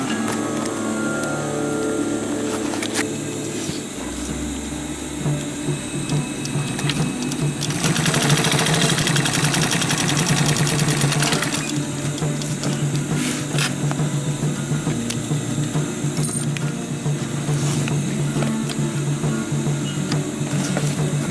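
A sewing machine stitches the folded flap of a DIY sustainment pouch, a loud continuous mechanical whirring hum with a rapid needle rhythm that swells briefly midway.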